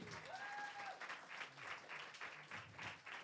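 Dense, steady audience applause fills a live comedy horror-night game show, a broad wash of many clapping hands with crowd noise running throughout.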